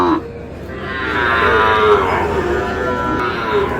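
Cattle at a cattle market, including Sahiwal calves, give a long, loud, nearby moo that rises and holds for several seconds.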